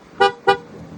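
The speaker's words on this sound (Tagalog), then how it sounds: "Yan, napalitan na yung busina." A replacement horn on a Mitsubishi Montero gives two short, loud, close toots with a brief gap between them.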